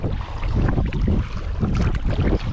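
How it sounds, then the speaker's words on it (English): Steady wind buffeting a kayak on an open lake, a loud broadband rush with wind noise on the microphone and faint water sounds throughout, no talking. "Going against the wind again"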